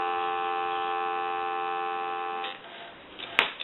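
Steady dial tone from a three-slot A&E payphone hums alone for about two and a half seconds, then cuts off into faint handling clicks and a sharp tap.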